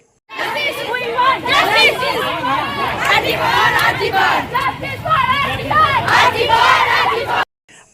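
A loud crowd on a protest march through Dubrajpur town in Birbhum over the murder of a young RG Kar doctor, many voices shouting and chanting together up close, steady and energetic for several seconds before cutting off.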